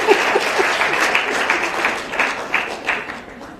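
An audience at a domestic violence rules launch event applauds to welcome a cabinet secretary, a continuous, moderately loud clatter of many hands that thins slightly toward the end.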